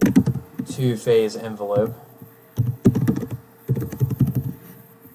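Keys tapped on a computer keyboard while renaming a plot, the quick clicks falling in short bursts near the mic, with someone talking over the first part.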